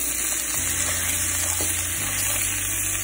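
Roasted peanuts and chopped tomatoes sizzle steadily in a pan as they sauté for a peanut tomato chutney, a continuous close frying hiss with a low hum underneath and a few faint stirring knocks.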